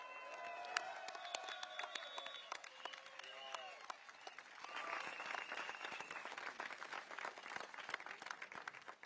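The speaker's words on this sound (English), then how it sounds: "Can we have one round of applause more for Leong Mun Wai?" A crowd at a Progress Singapore Party rally at Catholic High School applauds Leong Mun Wai. Fairly quiet clapping runs throughout, with a voice talking over the first few seconds.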